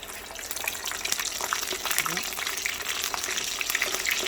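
Frozen potato chips fry in hot oil, a dense crackling bubbling hiss that runs throughout at moderate, close level, with a person speaking quietly over it.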